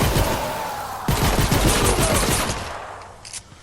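Rapid gunfire at husks in the video game Fortnite Save the World: loud, close bursts of repeated shots in quick succession, easing off into a few quieter sounds near the end.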